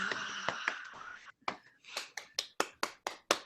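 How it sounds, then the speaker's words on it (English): A small audience at an open mic night at Camp Bar gives thin, scattered applause: a brief burst of mixed claps, then a handful of separate, fairly quiet claps at an uneven pace. "Another round of applause for Lyle Larue"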